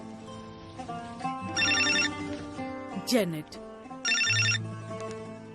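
A mobile phone rings in two loud bursts of a trilling ringtone, with talking in between and around the rings.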